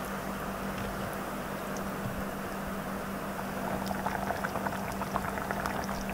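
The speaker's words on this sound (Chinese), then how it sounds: "加入高汤之后呢，把火调到中小火来慢慢熬" Chicken stock thickened with flour simmers in a pot over medium-low heat, a soft, steady bubbling that grows into more distinct popping bubbles toward the end.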